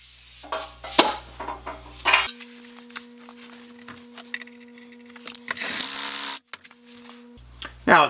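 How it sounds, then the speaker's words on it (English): An impact wrench on its lowest setting fastening the ring gear of a used NASCAR Ford 9-inch rear end, with a buzzing burst of hammering amid clanks and handling noises of tools and metal parts. "this is just on the very lowest setting of my impact there"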